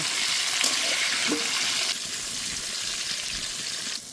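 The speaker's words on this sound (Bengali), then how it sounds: "পটলগুলো ভালো করে ভেজে নেব।" Pointed gourd pieces frying in hot oil with salt in a pan, a continuous close sizzle with brief scraping stir sounds partway through, softening slightly toward the end.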